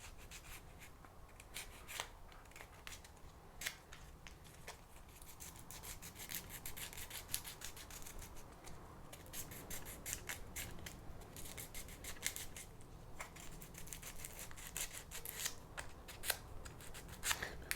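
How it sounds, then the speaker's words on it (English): Sandpaper rubbing across packraft fabric before gluing, a steady close scratchy rasp with repeated short strokes running throughout, no talking. "so you need to do both sides with the sandpaper"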